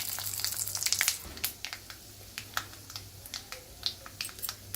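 Mustard seeds with urad and chana dal crackle and pop in hot oil, a steady close sizzle broken by scattered sharp spluttering snaps that gradually space out.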